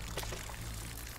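Water pours steadily in the survival video game Smalland, a continuous rushing splash heard close and fairly loud with no talking over it.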